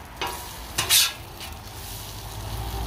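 An egg cooks over easy on a Blackstone griddle with a steady soft sizzle, and a couple of brief metallic spatula scrapes and taps come through near the start.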